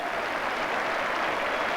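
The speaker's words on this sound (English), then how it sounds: "the Everton fans applauding him" Everton football fans in a stadium applaud, their clapping a broad, steady wash of crowd noise throughout with no distinct voices on top.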